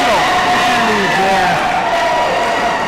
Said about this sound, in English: Now you hear the crowd